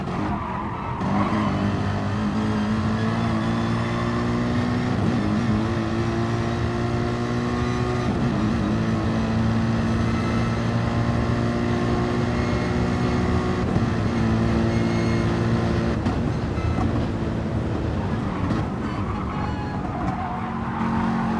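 A race car engine from a racing sim at Monza howls continuously through gear changes and braking, with sustained high revs and a few shifts and dips over more than twenty seconds, alone and fairly loud.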